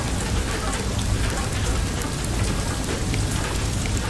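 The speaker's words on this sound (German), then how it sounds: "Ist nicht klug, hier im Regen zu stehen," Heavy rain and hail pound down steadily in a storm in the video game Far: Lone Sails, a dense, loud, unbroken wash of noise with no talking.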